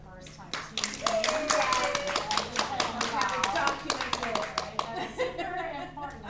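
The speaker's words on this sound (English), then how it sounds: "we always give a clap to somebody who has never taught before and it's their first time teaching" A group claps for a first-time aerial instructor at a training session, a dense burst of applause lasting several seconds before tapering off, with talk mixed in.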